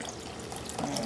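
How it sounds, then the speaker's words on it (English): A little water is poured into a cooking pot of crawfish fritter mixture, making a soft, continuous trickle and splash for about a second at close range. "I'm gonna add just a little bit of water to it."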